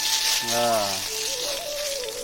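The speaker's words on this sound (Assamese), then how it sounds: "তেজপাতে ধৰ মাৰ কৰি আছে।" A bay leaf crackles and hisses in hot oil in a wok, a close, steady sizzle lasting a couple of seconds while a voice speaks over it.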